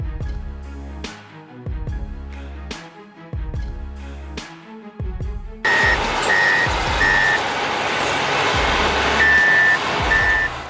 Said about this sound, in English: A big Caterpillar 993K wheel loader is rescuing a mining truck from a tricky drainage ditch